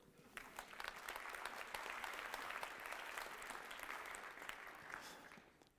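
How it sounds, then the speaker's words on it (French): Lecture audience applauding in a university hall, a sustained crowd of clapping that swells, holds steady and fades toward the end, with faint voices mixed in. "on peut l'applaudir, tonton"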